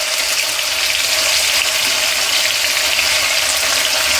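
Small potatoes sizzle in hot oil during sabudana khichdi preparation, a steady, loud, close hiss of frying with no pause and no voices.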